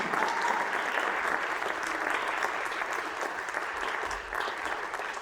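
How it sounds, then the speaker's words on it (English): A school concert audience applauds at a high school fall concert, dense and steady clapping from a large crowd filling the hall from start to finish. "we're going to give one more round of applause to all of our great musicians tonight"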